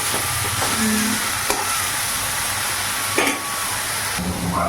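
Onion and spice paste frying in a pan, a steady close sizzle with a few soft stirring scrapes, no talking.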